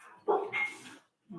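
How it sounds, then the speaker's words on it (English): A dog barks at a newly arrived visitor, one loud close bark stretching into a yelping tail, followed by a short second bark after a brief silence. "my dog's barking because she's hearing a new person"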